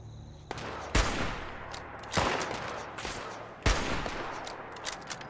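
Gunfire crackles in a Fallout 76 battle between Liberator bots and Scorched, with several sharp bursts and scattered shots at a moderate distance over a continuous rumbling background.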